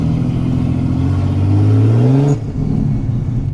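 A drag racing car's engine revving hard and climbing in pitch, loud and close, then cutting off abruptly as it shifts or lets off.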